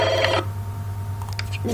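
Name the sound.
telephone ringing in The Sims 2 video game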